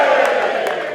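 Crowd of around 300 passionate British and Irish Lions rugby fans cheering loudly before a test against Australia in Melbourne, a dense, continuous roar with whoops and shouts for the full second.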